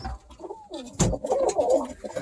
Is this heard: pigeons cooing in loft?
yes